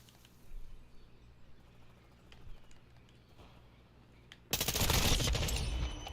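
Gunfire in the video game Call of Duty: after a stretch of quiet game ambience, a sudden loud burst of rapid shots erupts near the end.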